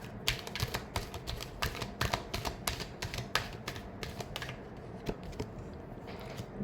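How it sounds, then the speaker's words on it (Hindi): Tarot cards shuffled by hand during a weekly Aquarius reading, a dense run of quick papery riffling taps and snaps, close and fairly quiet, with no talking. "Last shuffle."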